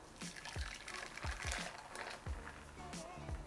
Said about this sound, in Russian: Теперь добавляем сюда 250 граммов теплого молока